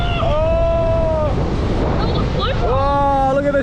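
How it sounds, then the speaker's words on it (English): Ocean surf surging up a beach on K'gari (Fraser Island) in cyclonic wind, a continuous loud rush of wind and water with people's voices calling out over it. "Oh, look at the surge."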